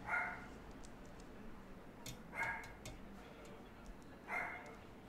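A dog barks in three short, sharp bursts spaced a couple of seconds apart, moderately close in a home, with low background murmur between barks.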